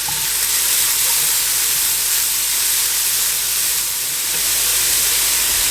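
A pot of noodles and vegetables boils on a stovetop burner, giving a steady, loud, unbroken hiss and bubbling roar close up throughout.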